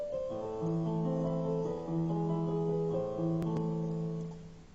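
Piano playing a soft, steady pattern of sustained notes and chords, heard alone at fairly low volume.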